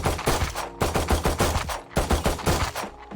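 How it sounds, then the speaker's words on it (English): Bursts of automatic gunfire from the shooter video game Valorant, three loud rapid volleys of shots in quick succession, each clattering for under a second with no talk over them. "let's say you take 3 normal shots."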